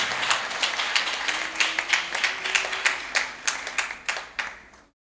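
A church congregation claps in praise during a Pentecostal service, a steady run of about a dozen sharp, fairly loud hand claps with no talk over them, ending abruptly.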